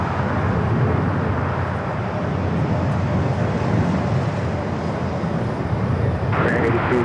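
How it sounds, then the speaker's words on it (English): A Delta Airlines Boeing 767-300ER jet takes off at LAX, bound for Atlanta: a loud, continuous low engine roar that holds steady throughout. "Delta Airlines 528 taking off to Atlanta on the 767-300ER"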